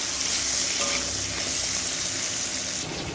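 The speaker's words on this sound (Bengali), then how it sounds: "হলুদ আর নুন দিয়ে পটলটাকে একটু ভেজে নিচ্ছি" Pointed gourd frying with turmeric and salt in a pan, a steady close sizzle and crackle of hot oil running throughout with no talk over it.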